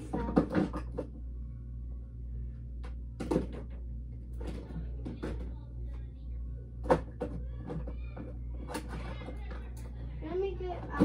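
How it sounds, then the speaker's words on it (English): Items being put back into a bedroom drawer, several light knocks and clatters scattered through a low steady room hum, with a person talking in between. "I'm going to put this all back in my drawer."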